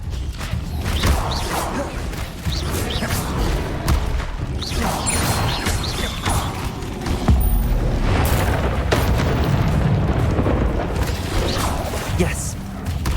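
In Hogwarts Legacy, repeated Incendio fire spells burst in bright, noisy whooshes and booms, several in a row amid game sounds, with a voice calling out the spell between them.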